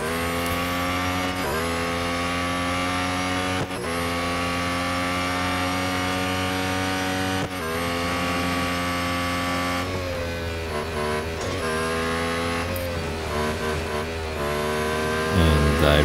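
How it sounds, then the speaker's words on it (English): Formula 1 race cars in Real Racing 3 at Suzuka, the Japanese Grand Prix circuit, a continuous loud engine drone with shifting pitch as cars pass near the bridge, steady throughout. "you can hear the cars that's going under"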